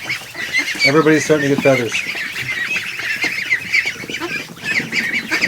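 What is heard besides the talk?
Chinese goose honking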